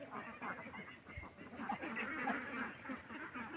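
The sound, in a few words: ducks quacking on a duck farm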